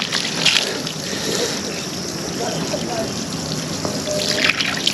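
Tap water runs steadily outdoors during a hike, a continuous broadband rush of splashing and trickling that stays fairly loud and close for the whole stretch.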